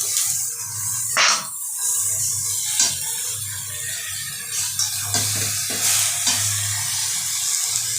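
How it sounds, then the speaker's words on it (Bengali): Chicken pieces for a black pepper chicken dish sizzle in a pan. A steady, close frying hiss is broken by several brief scraping and stirring bumps. "এবার আমি এটাকে মাংসটা ছেড়ে দেবো"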